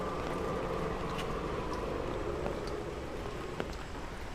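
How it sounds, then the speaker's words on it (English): Rain falls steadily during Typhoon Merbok on Victoria Peak in Hong Kong, a soft, continuous hiss with faint scattered drops, heard close and fairly quiet with no talking. "It's raining, but not as bad as it was the last two bands that came in"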